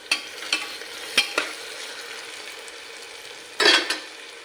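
Onions fry in a pan for moong khichdi, a moderate sizzle broken by several sharp spoon scrapes and taps, the loudest burst close to the end, with nobody speaking.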